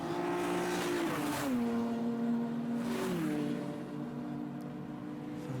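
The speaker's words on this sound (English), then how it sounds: "It's Darren Ball blasting past our camera." Race cars in the TEGIWA Club Enduro Championship at Snetterton 300 in 2020 roar past the pit lane, their loud engine notes dropping sharply in pitch as each passes, two passes heard over continuous engine noise from other cars.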